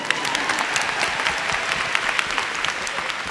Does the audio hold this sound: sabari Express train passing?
no